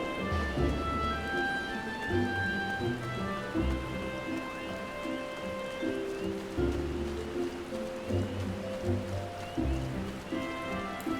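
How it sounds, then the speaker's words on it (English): Rain in Final Fantasy XIV: a steady hiss of falling rain runs throughout, close and even, beneath layered game music with sustained tones and a low repeating bass pattern, with no talk. "Ooh, look at the rain."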